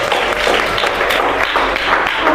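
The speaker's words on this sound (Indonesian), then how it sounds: "Tepuk tangan untuk kita sendiri." A group in a teacher-training class claps for themselves after a game, producing sustained, fairly loud applause that stays dense and even from start to finish.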